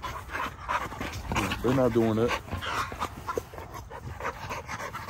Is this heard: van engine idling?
no